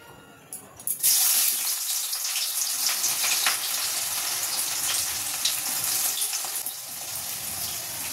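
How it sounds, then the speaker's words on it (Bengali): Onion dropped into hot oil in a kadai gives a sudden loud hiss that settles into a steady, bright sizzle lasting several seconds with no voices. "তো চলো এখানে কড়াই তেলও দিয়ে দিয়েছি। এবার পেঁয়াজটা দিয়ে দিই।"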